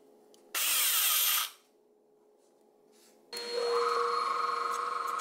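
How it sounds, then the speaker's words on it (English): A finger belt sander smooths the bottom of a turned wooden goblet. It gives a loud, steady whirring burst of about a second, a lull, then a longer continuous run with a tonal whine. "I have this finger belt sander that might do the trick."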